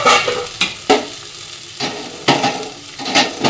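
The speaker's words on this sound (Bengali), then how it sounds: "এটা দিয়ে এবার মাছের মাথা মুগ ডালটা একসাথে ভালো করে ভাজতে হবে, মানে কষাতে হবে।" Fish head is fried and stirred with mung dal and spices in a pan, a steady sizzle broken by repeated scraping strokes of the spoon, close and loud, with no talking.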